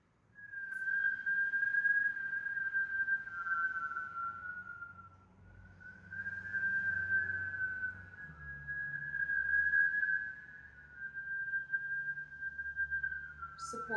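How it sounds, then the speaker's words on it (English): Steady, sustained whistling through pursed lips during a Kundalini yoga breathing exercise, holding one clear pitch in long phrases with a brief dip around the middle, heard close and alone without talking. "Support that whistle with a nice inhale."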